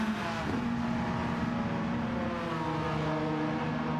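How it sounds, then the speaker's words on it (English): A Porsche 996 race car engine in Gran Turismo 7 holds a steady, droning high-revving tone with a slight pitch shift, moderately loud and continuous over a faint engine bed. "Man, that 996 is obnoxiously loud."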